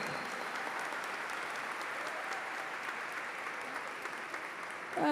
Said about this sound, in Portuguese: vou pedir só uma salva de palmas